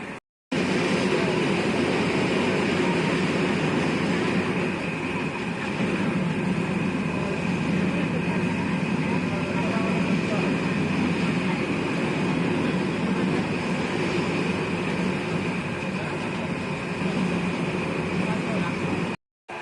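Jayantika Express train running on rails between Dhaka and Sylhet near Harashpur station in Habiganj, a steady loud rumble and rattle of wagons throughout, with a voice talking over the train noise.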